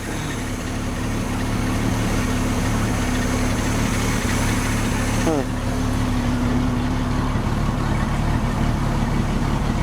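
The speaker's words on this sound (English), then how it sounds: "As you can see, it's running pretty good. There's your motor." A 4.3 motor with an OMC Cobra outdrive in a classic 16 ft Thundercraft bowrider boat idles at about 900 RPM, a steady close low engine drone with a faint whine, continuing evenly throughout.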